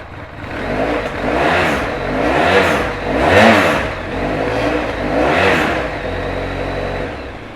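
A 2012 Honda VFR1200F DCT motorcycle's V4 engine idles close by and is blipped through four or five swelling revs, a throaty mid-range roar rising and falling without anyone talking.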